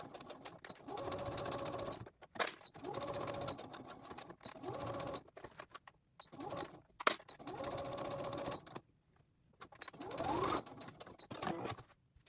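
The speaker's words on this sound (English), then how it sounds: "So now go back stitching." A sewing machine back-stitches over elastic on a fabric face mask, sewing in short stop-start bursts of rapid stitching with clicks between, close and with no talk.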